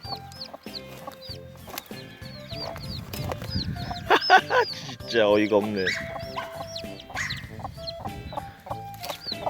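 A hen clucks repeatedly while her thirteen small chicks peep in high, rapid chirps throughout, outdoors by a grassy thicket on a farm; a person laughs and talks briefly in the middle.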